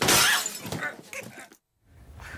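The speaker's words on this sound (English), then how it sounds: "Safety glass, yeah, but it smashed." Safety glass shatters in a sharp, loud crash, the broken pieces clattering and tinkling briefly before a short silence, then faint room noise.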